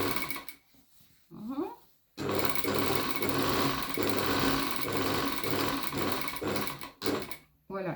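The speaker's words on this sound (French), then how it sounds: "Et là, je fais ma couture normale. En passant par la tête de manche." Sewing machine stitching a shirt sleeve seam through the sleeve cap, a close, loud rapid mechanical chatter that runs steadily for several seconds after a few short starts and pauses.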